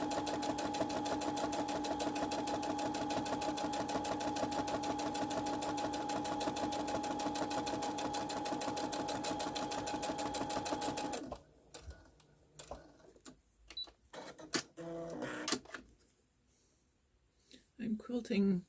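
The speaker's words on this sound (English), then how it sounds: "I'm working on quilting my pieces to my" A sewing machine quilting fabric pieces for a stand mixer cover runs steadily and close for about eleven seconds, then stops, leaving faint handling noises and short bursts.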